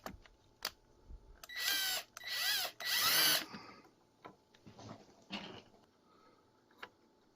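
A power drill drives a couple of screws to mount a battery balancer on a board for a DIY 48V LiFePO4 battery build, with three short whirring bursts close together, followed by quieter handling clicks and taps.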